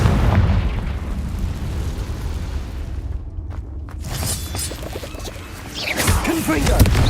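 A Confringo fire spell from Hogwarts Legacy bursts in loud booming blasts amid ongoing combat noise, with a short lull before fresh explosive impacts and crackling debris.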